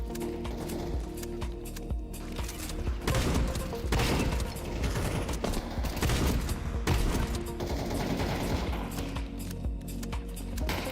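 Gunshots in the shooter Counter-Strike 2, a continuous rattle of rapid fire layered over steady background game sound, loud and close throughout with little talking.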